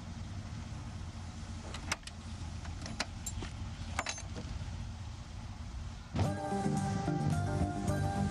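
A car starting off and pulling away, a steady engine drone with a few clicks and knocks, then the engine note rising louder and more tonal toward the end.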